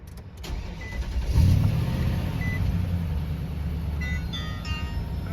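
A Nissan Titan pickup truck cranks and starts with a short burst, then settles into a low, steady idle rumble close by, with a few faint electronic chimes toward the end.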